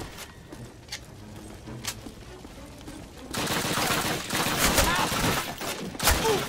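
Gunfire in Call of Duty Classic, set in Stalingrad: a few faint, distant shots at first, then a loud, sustained burst of rapid fire with sharp cracks over several seconds.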